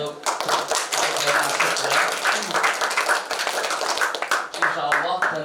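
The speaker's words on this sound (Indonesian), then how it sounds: "Tepuk tangan untuk" Audience applause after a talk, with crisp individual claps standing out from a lively, fairly close crowd of clapping hands, while a voice speaks over it throughout.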